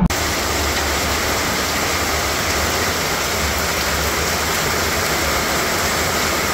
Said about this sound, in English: It is absolutely bucketing down.